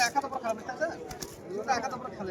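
A pigeon coos at a busy bird market at Beldanga haat, its soft repeated calls mixed under someone talking nearby.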